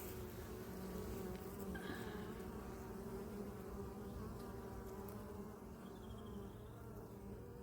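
Honeybees flying around an apiary hive, a steady soft buzzing drone of many insects close by, with occasional individual bees passing nearer.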